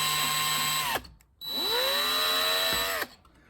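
A power drill whirs loudly at high speed, stops briefly, then spins up again and runs for a couple of seconds before winding down.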